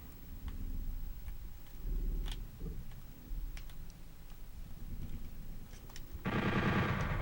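Rapid gunfire from the game Doom 64, a dense run of repeated shots with a louder, harsher burst near the end, no voices.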